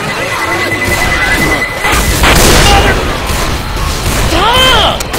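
Pipe bomb blast in Left 4 Dead 2 amid chaotic game noise, a loud crashing burst mid-clip with debris and clatter, surrounded by beeping, gunfire and shouting players.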